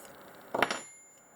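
Float bowl being pulled off an early-1990s Mercury 40hp four-cylinder outboard carburetor, giving a brief cluster of light metallic clicks and a small clatter, quiet and close, with no talk.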